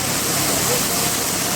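Water poured into chicken karahi in a pan, a steady broadband rushing hiss that fills the whole moment without a break, close and fairly loud.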